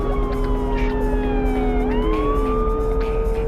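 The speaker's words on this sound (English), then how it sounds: "If you're gonna put police sirens in your game" A police siren from the PS1 racing game Porsche Challenge wails with steady, slowly gliding tones over a constant low engine drone, holding at even loudness with one dip and rise in pitch partway through.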